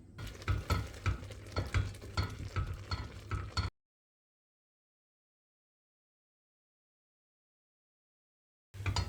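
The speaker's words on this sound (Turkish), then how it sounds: "Kapağını kapatıp ara sıra karıştırarak pişiriyoruz." Quinoa cooking in water in a pot is stirred with a utensil, giving a few seconds of loud, busy scraping and bubbling. Silence follows, then a short burst of the same stirring returns at the end.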